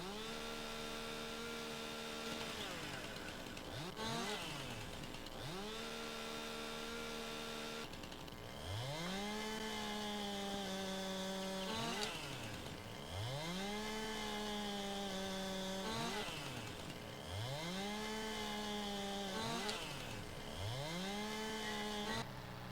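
A chainsaw in the Xbox One game Property Maintenance buzzes continuously as it cuts up a felled tree for a dump truck, its engine pitch repeatedly dipping and rising in regular cycles as it bites into the wood.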